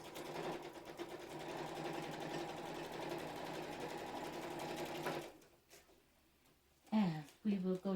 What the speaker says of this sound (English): But I am going to stitch very close to the edge.